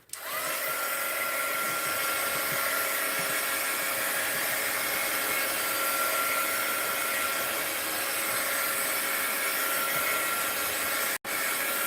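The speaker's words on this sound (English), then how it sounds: "Heat gun alert." A heat gun blows steadily over craft art in a home studio, a loud continuous whooshing hiss that runs nearly twelve seconds with one brief cutout near the end.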